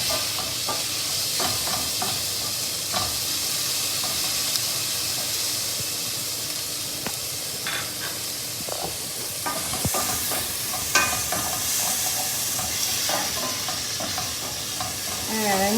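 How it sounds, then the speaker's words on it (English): Onions and garlic with cumin sauté in a pan for Indian-style zucchini, a steady, loud sizzle and hiss with occasional scraping stirs throughout, no voices. "now we're going to saute the onion until it turns a little brown"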